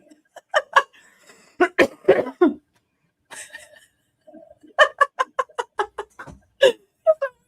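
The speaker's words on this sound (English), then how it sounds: "It sounds like a duck call. It could be a crow." Harsh, duck-like or crow-like bird calls sound outdoors in short nasal bursts, some clustered and overlapping, separated by brief pauses, fairly close and clear.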